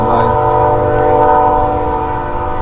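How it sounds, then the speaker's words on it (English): A train rolls past close by with a loud, sustained horn blast over steady rumbling and rail noise, fading slightly toward the end. "There's a train going by."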